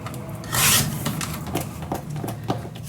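Scissors cutting cardstock paper at the 3-inch mark for a mini album pocket, a brief rasping snip followed by softer rustling and handling sounds, close and fairly quiet.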